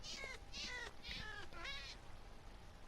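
A cat in the Minecraft video game meows four times in quick succession, high-pitched and plaintive, fairly faint, with no talking over it.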